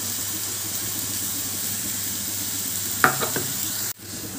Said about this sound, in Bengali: এবার দিয়ে দিচ্ছি যে মুসুর ডালের পেস্ট বানিয়েছিলাম, সেই মুসুর ডালের পেস্টটা।